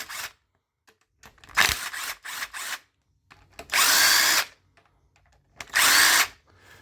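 Power gun unbolting two 10mm tensioner bolts: short stuttering bursts, then two longer, loud, sustained whirring runs with quiet pauses between them, close up and without speech.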